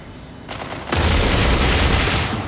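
Heavy gunfire from mech weapons in the game Mech Arena bursts in as a dense, loud roar of rapid shots and blasts, building after a brief opening and sustained to the end.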